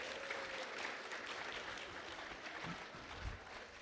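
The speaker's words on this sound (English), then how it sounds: "Let's give them a round of applause, guys." Conference attendees at a community wellness gathering give a round of applause, a fairly faint, steady wash of clapping heard from a distance in a large hall.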